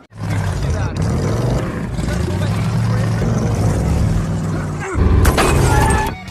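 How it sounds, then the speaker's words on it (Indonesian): A loud roaring engine scene from a film, with a brief sharp crash of car window glass being smashed near the end over the continuous drone. "Hingga pada saat kaca mobilnya dipecahkan"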